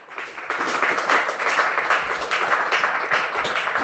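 Congregation in a church service applauding steadily, a dense wash of many hands clapping at moderate loudness throughout, with no speech over it.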